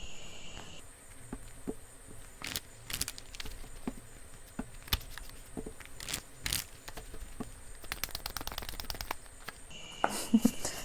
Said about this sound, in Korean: 조금 더 자세하게 메시지 카드 몇 장 더 뽑아볼게요